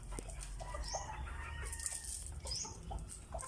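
Chickens cluck and squawk nearby in short, overlapping bursts, with a few higher calls over low background rumble.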